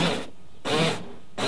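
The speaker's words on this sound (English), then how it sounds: "Now we're going to hot wire that motor." A car door window motor, hot-wired straight to a power source after its wires were stripped, runs in two bursts of steady whirring hum with short pauses between, close and fairly loud.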